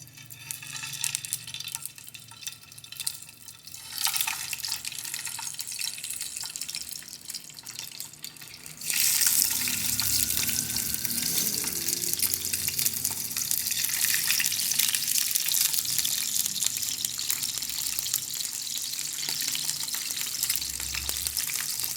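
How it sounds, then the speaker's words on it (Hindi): Fish goes into hot oil in a frying pan for shallow frying, and a loud, steady sizzle erupts and holds close-up, following a quieter stretch of background noise, with no talking. "ऑयल मैंने गरम कर ली है फ्राई पैन में और आपने फ़िश को शैलो फ्राई कर लेना है"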